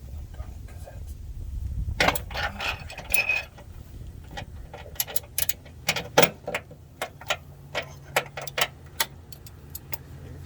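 A wrench ratcheting on a vehicle part, giving a run of quick, close metallic clicks that turn into evenly spaced ticks toward the end, with some clunks and handling noise earlier on.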